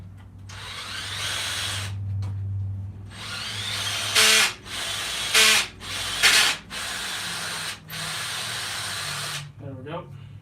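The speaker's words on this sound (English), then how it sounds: "Drilling the holes." A drill bores holes through one-inch solid steel bar with a steady grinding whine, broken by several louder bursts as the bit bites and pauses between passes, close and continuous.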